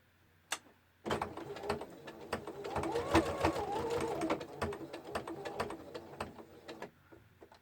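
A sewing machine stitches layered lace in one continuous close run of rapid mechanical ticking and whirring, lasting several seconds after a brief click and stopping abruptly near the end.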